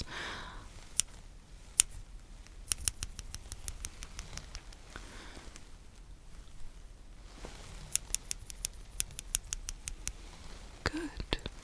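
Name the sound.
scissors snipping, ASMR trigger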